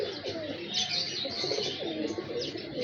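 Hira Lal breeder pigeons at a fancier's home coo continuously in soft, overlapping rolling calls, close and moderately quiet, with a few light chirps mixed in.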